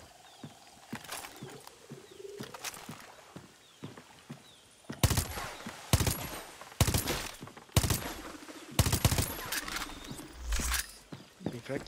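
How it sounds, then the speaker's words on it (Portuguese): Gunfire in the video game Far Cry 6 crackles in a rapid series of sharp bursts, with shots striking water, over continuous ambient game sound and some background bird calls. "tiro bate na água e bem fraco"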